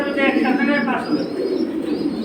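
Pigeons cooing up close, silver high-flying birds at a pigeon seller's, a steady layered murmur of low coos running throughout with no pause.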